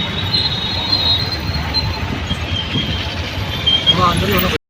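A metro local train rolls past on an elevated track overhead in Pune, a steady broadband rumble with high wheel squeal, heard amid street traffic noise.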